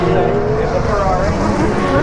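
Sebastian Vettel's Ferrari Formula 1 car at a 2019 race, heard trackside at Turn 11, makes a loud, continuous high-revving engine whine with rising pitch for a couple of seconds, and a voice talks underneath.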